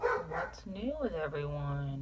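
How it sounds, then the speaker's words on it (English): Dogs bark a few times in the background of an indoor room while a person speaks over them in the foreground. "Sorry about the dogs in the back. I don't know what the hell they're barking at."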